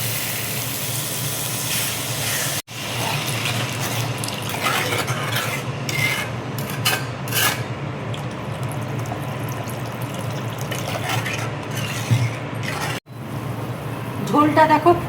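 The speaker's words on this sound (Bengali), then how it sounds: "এবার আমি জল দিয়ে দেবো।" Water poured into cooked, fried spice masala in a pan for bottle gourd paneer curry sets off a loud, steady sizzling hiss that runs almost throughout with two brief breaks, while a voice talks over it.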